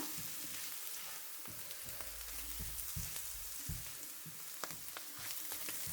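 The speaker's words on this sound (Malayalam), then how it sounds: "ഇനി നമുക്ക് നല്ലപോലെ ഒന്ന് ഇളക്കി കൊടുക്കാം" Coriander powder stirred in a hot frying pan for a chickpea curry gives a low, steady sizzle with occasional spoon scrapes, quiet and close, with no voices.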